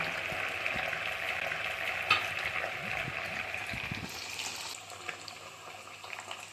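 Tuna fish frying in a pan sizzles steadily at a low, even level for several seconds with small crackles and pops, and the tone shifts slightly partway through.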